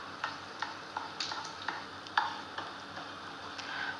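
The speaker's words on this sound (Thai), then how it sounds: "ระหว่างทอดก็ใช้ตะหลิวนะคะ จิ้มๆแบบนี้ค่ะ เพื่อให้ไข่ไหลลงด้านล่าง มันจะได้สุกทั่วถึงนะคะ" Shrimp omelette frying over medium-low heat in a wok while a spatula pokes at it, a faint steady sizzle broken by light, evenly spaced taps and clicks.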